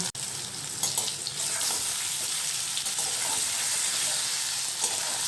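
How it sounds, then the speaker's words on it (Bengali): Potato chunks for aloo dum fry in hot oil with a steady, continuous sizzle from start to finish, with an occasional stir or clink early on and no one speaking. "খুব ভালো করে লাল লাল হওয়া পর্যন্ত আমি আলুগুলো ভাজবো।"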